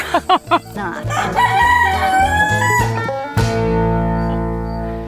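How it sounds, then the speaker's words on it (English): A rooster crows loudly nearby, a long ringing cock-a-doodle-doo after a few short clucks, with another crow starting near the end. "That's Kazoo, Susan's rooster."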